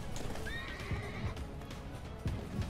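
Horse in the Attack on Titan video game whinnies with a rising tonal call, over a steady stream of clip-clopping hooves and game ambience, fairly close and loud throughout.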